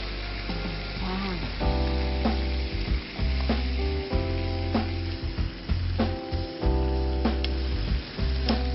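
Steady sizzling of marinated squid frying in a hot pan, loud and close, with occasional stirring scrapes and clinks; no talking.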